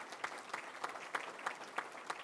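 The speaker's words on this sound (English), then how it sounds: "Give the teachers of America a round of applause." An audience gives a round of applause for the teachers of America at a 2018 NAACP banquet keynote, a steady wash of clapping with faint rhythmic bursts, moderately distant and sustained through the whole moment.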